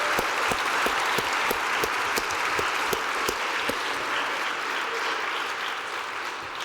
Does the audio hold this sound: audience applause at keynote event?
yes